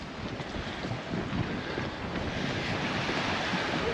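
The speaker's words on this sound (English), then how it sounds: "Windy here" Steady wind gusting along the seafront at Santa Ponsa, Mallorca, a continuous broadband rush with waves washing beneath it, loud and unbroken with no voices.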